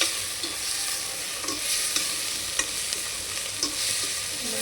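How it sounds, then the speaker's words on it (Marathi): Rajma masala roasts in oil in a pan while being stirred, with a constant near sizzle and a series of sharp spatula scrapes spaced about every half second, and no talking. "मसाला मस्तपैकी तेल सुटेपर्यंत भाजून घेऊया आपण."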